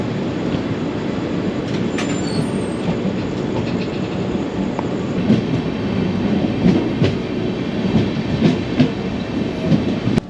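The Doon Express (13009) running on rails in Uttar Pradesh toward Uttarakhand, a continuous loud rumble from inside the moving train with rhythmic clickety-clack from the wheels and faint squeals, no voices.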